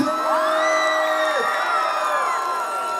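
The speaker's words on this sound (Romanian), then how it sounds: "Hai să-l aplaudăm pe omul ăsta, vă rugăm din suflet." A large crowd at an outdoor village festival cheers and whoops loudly, sustained shouting from many voices blending together, with no clear clapping standing out.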